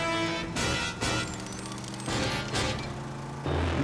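Cartoon gunfire aimed at a car's tires, several loud bursts of shots in quick succession over a driving action score, with brief pauses between volleys.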